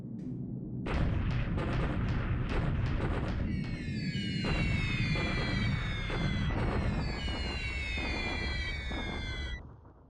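Bombing in the War in the Pacific strategy game arrives as a quick string of explosive blasts, then rising whistling tones over a sustained rumbling barrage, loud and without talking.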